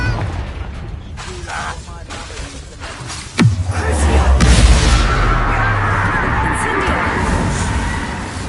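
A Confringo spell explodes in the video game Hogwarts Legacy: a sharp crack bursts out midway, then swells into a loud, sustained roaring rumble over background game noise and voices.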